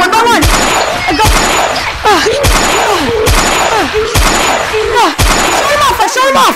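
Rapid gunfire in a zombie-apocalypse roleplay in the VR game Gorilla Tag, a loud, steady burst of repeated shots in a regular rhythm with brief breaks, close and dominant throughout.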